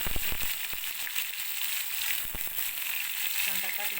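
Cumin seeds and onion frying in hot oil in a kadai, giving a continuous loud crackling sizzle with sharp pops early on and a few faint clinks, close up with no talk.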